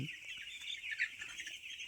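Faint, steady clucking and chattering of many broiler chickens together on a poultry farm at night, a soft continuous flock murmur with no voices.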